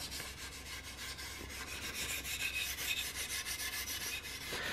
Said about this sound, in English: I can also come in here and scrub that oil.